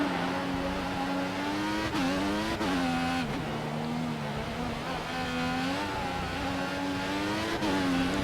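F1 race car engine from the video game F1 2014 at the Singapore Grand Prix, a steady loud high-pitched whine that rises and falls through upshifts and downshifts with continuous revving, on hard prime tyres with oversteer.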